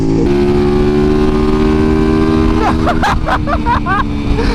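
Motorcycle cruising on the highway, a loud steady engine drone mixed with heavy wind rush, while a rider's voice talks over it toward the end.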